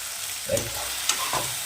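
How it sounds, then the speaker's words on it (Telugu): Food fries in a pan with a steady close sizzle and a couple of brief stirring clicks, no voices heard. "కొద్దిగా వేగనిద్దాం."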